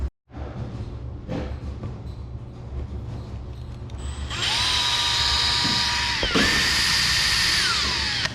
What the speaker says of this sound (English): They recommend a 1/4 inch drill bit, and then you're going to use the 3/8, which is right here what I have.